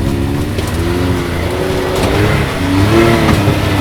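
A Can-Am X3 UTV drives an off-road trail through private woodland in Canada, its engine a steady, loud drone that swells slightly toward the end, with no talking over it.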